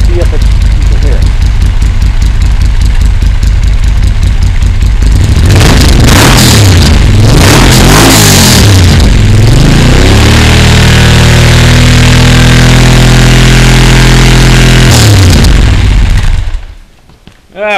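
Moto Guzzi Norge motorcycle with a Cherry Bomb modified exhaust idles with a close, loud lumpy beat, then revs sharply a couple of times before holding a steady high-rpm drone and dropping back off.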